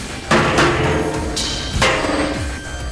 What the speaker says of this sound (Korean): 이번에는 대놓고 망치로 공격을 가하기 시작한다.